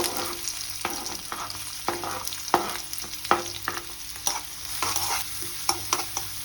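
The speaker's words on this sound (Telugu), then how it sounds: "జీలకర్ర వేసి సన్నగా కట్ చేసిన వెల్లుల్లి, పచ్చిమిర్చి మరియు ఆనియన్స్ వేసి 2 మినిట్స్ దాకా బాగా ఫ్రై చేసుకోండి" Cumin, thinly sliced garlic, green chilies and onions fry in a pan, stirred with repeated sharp scraping clicks over a steady close sizzle, no voices.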